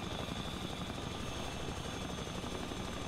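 Steady, loud rotor and engine drone from a helicopter flying in the multiplayer survival game The Front, continuous and without speech.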